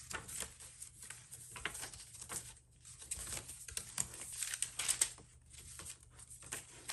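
A paper bag handled inside a handmade vintage junk journal gives soft crinkling and rustling with light pattering page movements, close and quiet, continuous without speech.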